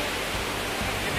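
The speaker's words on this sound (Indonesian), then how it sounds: "gua ada di air terjun nih, Grojogan Sewu" Grojogan Sewu waterfall in Tawangmangu roars as a dense, steady wash of falling water, loud and constant with no pause, and nobody talks over it.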